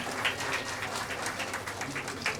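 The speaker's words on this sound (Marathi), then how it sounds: "जोरदार टाळ्या वाजवा" Audience applause at a Women's Day felicitation event held by a Maharashtra Navnirman women's wing in Vasai, a brief patter of clapping from a crowd at moderate distance, fairly soft and continuous.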